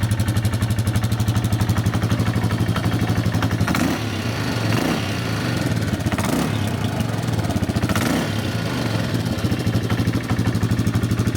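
A Yamaha TT600 single-cylinder motorcycle engine idles steadily up close just after a cold start off the choke, a loud continuous thumping rumble with a few brief revs that swell and fall back.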